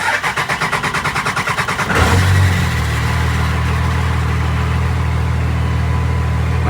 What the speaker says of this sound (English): let me show you guys real quick the startup on the truck